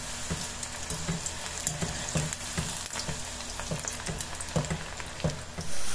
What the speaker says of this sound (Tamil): போட்டு ஃப்ரை பண்ணிக்கலாம்